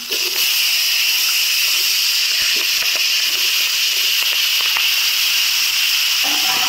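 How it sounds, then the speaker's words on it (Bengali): Vegetables fry in hot oil with five-spice, bay leaf, green chilli, onion and cut potato, giving a loud, steady, close sizzling hiss with faint clinks from the pan. "আর এখন আমি সবজিটা ভেজে নেব।"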